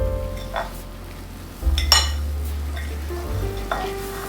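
Hot homemade Southern biscuits sizzling fresh from the oven, a soft crackling fry under low hum, with a few clinks of a pan or utensil and brief louder scraping bursts.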